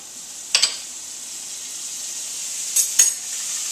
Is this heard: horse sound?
no